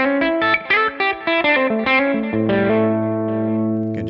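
A DI electric guitar feeds ToneX Cab software with effects, playing a run of distorted, chorus-tinged picked notes that settle into a long, sustained ringing chord, loud and close with no talking.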